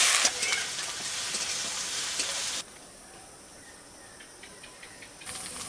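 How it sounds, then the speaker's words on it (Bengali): Onions, ginger-garlic paste and whole cumin fry in hot oil for an egg curry, a loud steady sizzle that drops suddenly to a quieter hiss and then swells again near the end. "ভালো করে কষে নেব"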